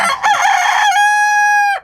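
A rooster crows once, close and loud, a strained call ending in a long held note that drops off sharply.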